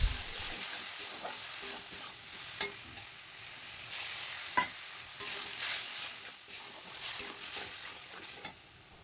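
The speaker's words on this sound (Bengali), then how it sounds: "এবার এটাকে দিয়ে সামান্য জল দিয়ে ভালো করে কষিয়ে নিলাম।" A spice paste of ground coriander, cumin, chilli powder and turmeric, loosened with a splash of water, sizzles steadily in a pan, with scraping stirs and occasional sharp clicks and pops, all close and unaccompanied by speech.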